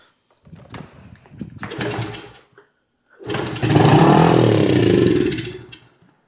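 An old dirtbike engine with too much throttle: a short rough sputtering run that dies, then a longer loud, high-revving roar that cuts off.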